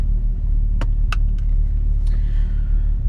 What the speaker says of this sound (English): I started the car